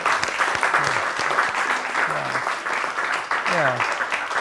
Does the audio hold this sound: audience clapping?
yes